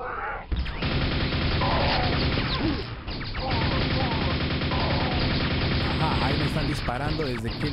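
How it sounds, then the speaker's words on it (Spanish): Gunfire in the 1996 shooter game Quake, dense and loud, with continuous blasts and crashing impacts filling the stretch apart from one short break. "Y siguen disparando, así que vamos a ver."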